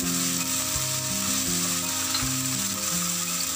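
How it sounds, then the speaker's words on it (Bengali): Salt being stirred into a soy sauce mixture in a pan for chicken lollipop, heard as a steady, loud sizzle with continuous frying hiss and soft stirring throughout, no talking. "এবার নুনটাকেও খুব ভালো করে আমি সসের সঙ্গে মিশিয়ে নিচ্ছি।"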